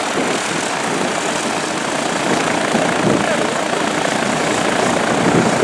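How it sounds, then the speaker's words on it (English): A single-engine Cessna taxiing nearby drones steadily, a constant buzzing propeller roar with voices faintly underneath. "Cessna and a single engine Cessna now taxiing out"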